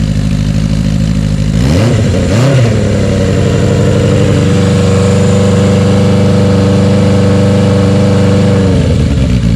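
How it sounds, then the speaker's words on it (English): A car engine fitted with a new muffler, idling with a deep steady drone, then revved twice in quick bursts and held at a raised, throaty hum before settling back, loud and close. "Give it a rev."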